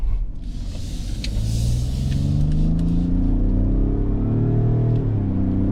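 A 2024 Ford F-150 Platinum hybrid pickup accelerating, heard from inside the cab as a deep engine rumble that climbs steadily in pitch and stays loud and continuous, with no talking.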